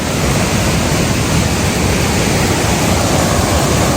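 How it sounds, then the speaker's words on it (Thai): Heavy rushing water at Kong Kaew waterfall, Khao Yai, flowing hard after rain: a dense, constant roar that stays loud and even throughout, with no voices over it. "นี่ อีกฝั่งหนึ่งของน้ำตกกองแก้ว"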